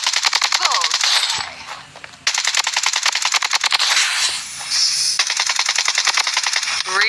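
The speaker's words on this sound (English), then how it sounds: "This is a SCAR, one of the best assault rifles in the game." A SCAR assault rifle fires in the video game Blood Strike: loud, close bursts of rapid automatic shots, broken by two short pauses, with no talk.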